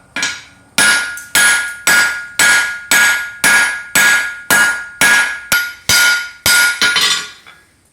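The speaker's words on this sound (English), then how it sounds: "So let's go forge the blade now." A hammer strikes a hot railroad spike on an anvil, forging the flat of a knife blade: about a dozen loud, ringing blows at a steady, roughly half-second rhythm, close and clear with no talk.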